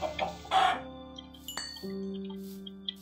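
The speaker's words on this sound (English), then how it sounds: "There's some chickens!" Chickens in the Minecraft video game give short clucking calls, a few quick bursts at the start and then a sustained tone with a light clink near the end, and no one talks.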